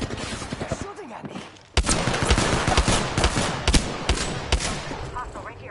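Rapid automatic gunfire in the Apex Legends video game, dense bursts of shots that start abruptly and continue loud and close, with brief talk underneath.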